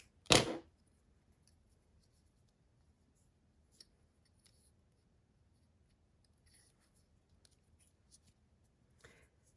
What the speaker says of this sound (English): At the end of round 4 of the middle tier, we will cut our yarn and fasten off.